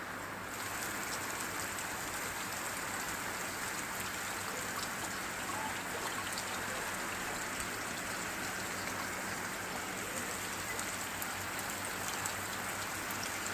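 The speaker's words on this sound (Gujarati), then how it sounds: "એ ગયો વરસાદ" Steady rain pours down continuously, a dense hiss of drops drumming on surfaces with no pauses and no voices.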